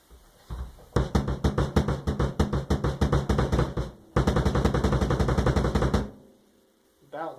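A blast beat hammered fast on a drum kit, with rapid, even bursts of snare, kick and cymbals running loud for about three seconds, a short break, then another burst of roughly two seconds before it stops.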